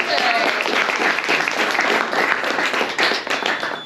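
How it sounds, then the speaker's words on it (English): Audience applause at a book event for One Book One New Orleans 2023, a dense, steady clapping from a crowd that stays loud throughout with some cheers mixed in. "you gotta clap even more"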